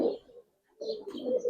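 Silver giribaz pigeon cooing close by in two soft, low bursts separated by a brief pause, faint and alone without talk.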